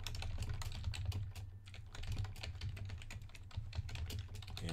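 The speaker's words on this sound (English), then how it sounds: "Let me switch screens to the desktop and type in" Rapid typing on a computer keyboard, a steady stream of close, dense key clicks with a low hum underneath, no talking.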